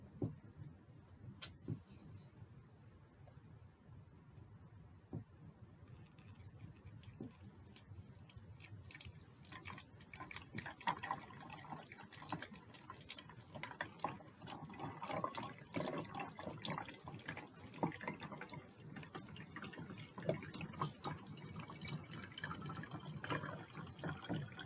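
Water trickles and splashes as it is poured into a bottle for an air pressure experiment, a quiet, close, dripping flow that grows fuller and busier partway through.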